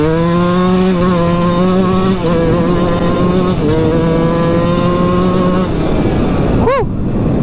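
A Suzuki RM125 two-stroke dirt bike engine held at full throttle screams loud and close in a sustained high-pitched wail, briefly stuttering a few times, then drops off sharply with a quick blip near the end.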